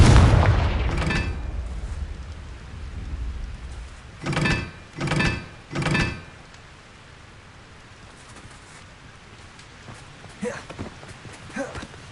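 Confringo fire spell blasts in Hogwarts Legacy on PS5, a heavy rumbling explosion followed by three evenly spaced, booming bursts, then quieter scattered impacts.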